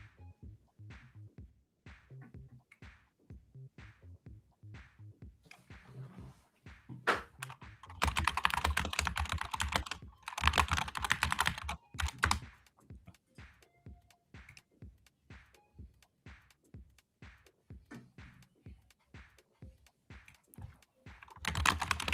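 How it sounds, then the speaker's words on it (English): Someone types on a computer keyboard in quick, irregular bursts of close clicks and key taps, with a denser, noisier stretch in the middle and no talking. "If I had to listen to that noise that Reese is putting out in my ear right now, I would take my keyboard"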